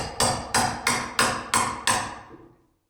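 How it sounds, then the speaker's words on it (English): A hammer strikes the side of a nail puller six times at a steady rhythm to pull a nail from wood. The blows are loud, sharp and close, each with a short ringing decay, and no one speaks. "Then I like to strike the side of the nail puller right here at the top"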